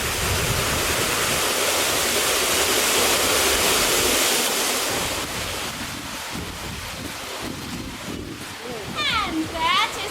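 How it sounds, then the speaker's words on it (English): A historic water-powered sawmill at Mill Creek sends up a steady, loud roar of rushing water that eases slightly partway through, with voices talking faintly underneath. "And that is our water-powered sawmill here at Mill Creek."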